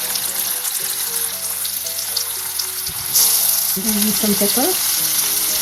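Boiled potatoes browning in a frying pan give a steady loud sizzle for a mushroom and egg curry, and a voice speaks briefly over the frying near the end.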